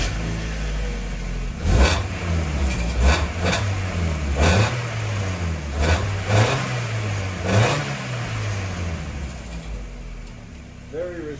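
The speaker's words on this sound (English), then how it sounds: "we're going to rev it real quick, stock exhaust, just to see what it sounds like" A Mazda Miata engine with its stock exhaust is revved in a series of sharp throttle blips rising and falling from idle, close and fairly loud, with some talking between the revs.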